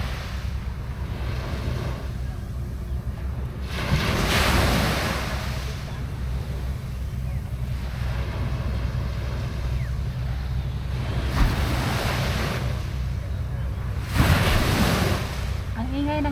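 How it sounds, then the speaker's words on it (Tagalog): Sea waves on Sentosa island in Singapore, surging and breaking in repeated washes every few seconds over steady wind noise, loud and close to the shore. "Ang ingay ng dagat."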